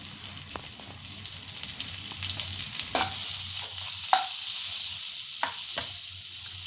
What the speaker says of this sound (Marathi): मी बटर टाकले आता त्यामध्ये ज्या काळी मिरी होत्या अख्ख्या त्या मी घालतीये तमालपत्र